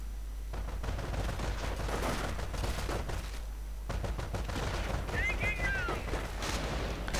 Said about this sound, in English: And there we go, strafing run, pinning down the air Fallschirmjäger.